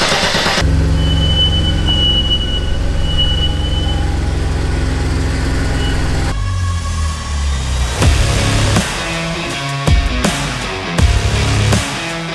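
A Mercedes car engine runs close by, first holding a steady, loud low idle hum, then the tone shifts partway through into rougher revving with uneven bursts and knocks, mechanical clatter layered over the running engine.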